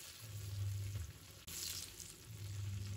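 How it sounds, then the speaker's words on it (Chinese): Sliced pork belly, scallion, ginger and garlic sizzle in hot rendered fat in a wok while a spatula scrapes and tosses them, a soft, close frying hiss throughout. "再把葱姜蒜放入锅中，用铲子翻炒一下"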